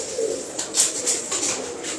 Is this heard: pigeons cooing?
yes